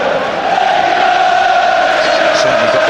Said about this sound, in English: Certainly got the crowd going.